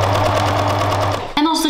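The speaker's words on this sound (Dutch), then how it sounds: "En dan kan ik die vast vaststikken met de naaimachine." A sewing machine stitches a zipper onto fabric for a cushion, giving a fast steady mechanical whir that cuts off abruptly, followed by a brief voice.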